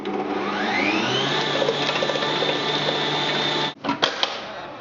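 An electric mixer whizzing carrot cake batter with vanilla extract, giving a steady close whirring hum that spins up, runs for several seconds, then cuts off with a few clunks as it stops.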